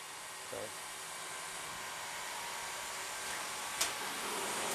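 Steady mechanical whir of machines running on the Rotosound guitar string factory floor, a constant even drone with a brief clunk partway through.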